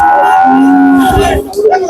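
A cow moos loudly and close by at a cattle market, a long drawn-out low call lasting over a second, followed by a rougher, quieter bellow.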